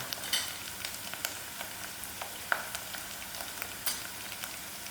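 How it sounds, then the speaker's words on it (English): Okra chutney with mixed masala sizzles steadily in a pot, a soft continuous crackle broken by sharper pops and spatters at irregular intervals, close and fairly quiet with no talking. "Allow this to fry out"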